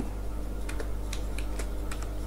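Keys on a computer keyboard clack in a steady run of distinct taps while a form name is entered in MS Access, close and clear over a constant low electrical hum.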